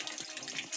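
Spring water flowing out from between rocks at a small rock shelf, a steady close bright rush and trickle with no speech.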